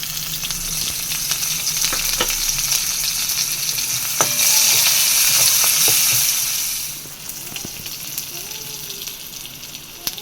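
Onions frying in hot oil in a kadai, a loud, close, continuous sizzle with occasional stirring clatter, the hiss swelling briefly midway before settling lower.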